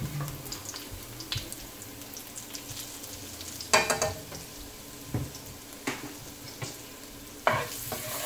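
Curry powder stirred into hot olive oil sizzles steadily up close, broken by several sharp scrapes and clacks of the spoon against the pan, with no voices.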